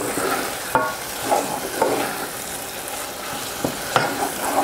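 Crushed potato chips stirred in a hot pan, a soft continuous frying hiss broken by several sharp scraping strokes of the spoon at irregular intervals.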